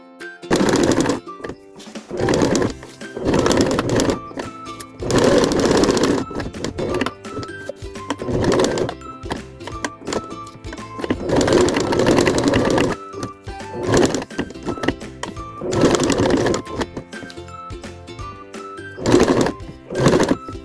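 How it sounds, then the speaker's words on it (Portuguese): A domestic sewing machine stitches slowly around an appliqué outline with small stitches, running in loud, rapid mechanical bursts of a second or two, separated by short pauses and repeated many times, up close with no speech. "Passei o contorno na máquina doméstica, bem devagar, num ponto pequeno."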